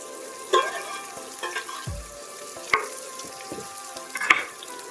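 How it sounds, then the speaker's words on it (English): Diced onions sauté in butter in a soup pot over medium heat, giving a soft steady sizzle with a few scattered clinks and stirring scrapes, close by and with no talk. "And we are going to add our diced onions."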